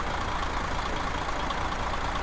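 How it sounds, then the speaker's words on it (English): Kenworth K100 truck engine in Euro Truck Simulator 2 gives a steady, loud diesel drone with no change in pitch over the short stretch. "that's a stock engine sound"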